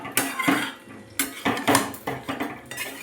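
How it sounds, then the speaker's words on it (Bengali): Poppy seed paste and vegetables (spinach stems, palang posto) are stirred in a pan with a spoon, giving a run of clinking scrapes and knocks against metal at an uneven rhythm, close and moderately loud, with no talking. "নাড়িয়ে নেব মিষ্টি দিয়ে।"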